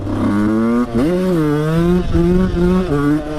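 A 125 cc two-stroke motorcycle revving hard during a wheelie attempt, a loud close engine whine that rises, dips and climbs again over a few seconds, steady and unbroken.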